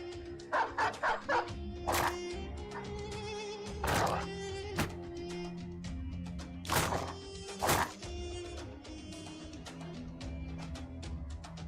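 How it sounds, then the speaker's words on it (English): Dogs bark, yip and whimper in a fantasy role-playing game as one dog chases down an enemy, with sharp repeated barks and thumps over a steady low game hum, no talk. "We have a dog chasing one of them down"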